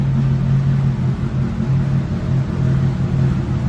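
A Benetton Formula One race car engine idles nearby in a paddock, a loud steady low drone with a buzzing pulse that dips and swells slightly, heard alone.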